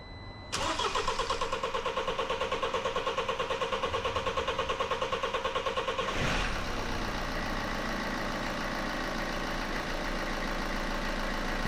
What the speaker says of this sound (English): Now let's fire it up.